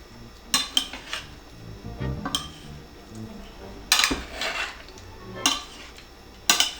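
Wheat berry salad gets tossed in a bowl with utensils, giving intermittent clinks and knocks against the dish between softer stirring rustles, close and moderately loud, with no talking.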